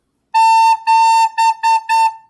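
A clear, high recorder tone sounds in five notes, one long then four shorter, played close and alone.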